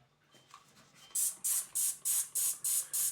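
Seven quick, bright spritzes from a spray bottle mist freshly sown tomato seeds in an even rhythm, close and crisp after a moment of quiet handling.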